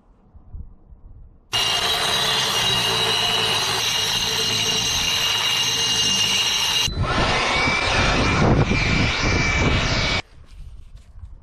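An angle grinder fitted with a 100 grit cup wheel polishing a natural stone table, a loud steady high-pitched whine that runs continuously for about nine seconds, dropping in pitch partway through as it bears down, then cuts off.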